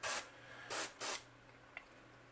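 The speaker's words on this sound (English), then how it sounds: "So when I spray the yellow, or this yellow that I mixed" Yellow paint is sprayed onto a rustic gill or sauger fishing lure in three quick, soft hissing puffs, the last two close together, followed by quiet.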